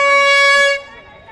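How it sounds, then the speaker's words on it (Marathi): A bhonga horn is blown at a Dahi Handi festival gathering in Thane: one loud, close, steady blaring blast that cuts off sharply, leaving faint background noise. "वाजव रे भोंगा वाजव"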